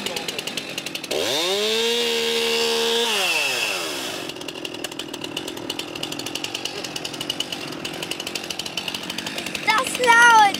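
A chainsaw revs up loudly, its engine pitch rising and holding before dropping back to a rattling idle that continues for several seconds.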